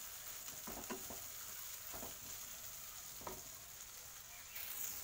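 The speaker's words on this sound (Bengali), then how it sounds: "পুরো যে মশলাটা এটাকে আমি সুন্দর করে ফ্রাই করে নেব আগে" Spice paste masala frying in a pan for a prawn and soybean curry gives a steady soft sizzle with occasional stirring scrapes and clinks, fairly quiet and close.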